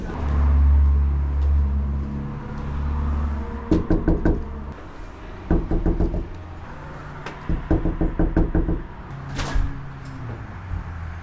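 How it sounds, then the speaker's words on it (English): Knuckles rap on a door in repeated bursts of three or four quick, loud knocks, separated by pauses, after a low rumble at the start. "Did you try knocking already?"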